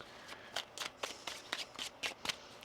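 Tarot cards are riffled and shuffled in quick, crisp bursts, about nine soft papery flutters in a rhythmic run, close and fairly quiet with no voices.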